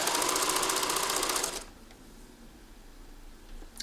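A sewing machine runs fast, stitching a blouse hem in a rapid, even mechanical whir, then stops abruptly, leaving only quiet room noise.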